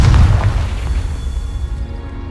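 A Confringo blasting spell explodes in Hogwarts Legacy, a single loud, deep boom that hits at once and then rumbles and fades over a couple of seconds.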